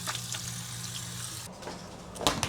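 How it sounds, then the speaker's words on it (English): Tap water runs steadily into a sink for hand washing, a soft continuous splashing wash with a few sharper clinks and splashes near the end, close by and with no talking. "I think I wanna wash my hands first before it"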